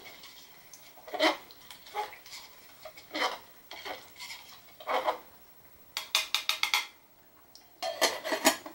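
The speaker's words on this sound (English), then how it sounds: "I'm just going to stir this up" A spoon scrapes and clinks against a pot of red beans and rice on a center burner, producing irregular stirring knocks and brief rapid clatter bursts at close range, with quiet gaps between.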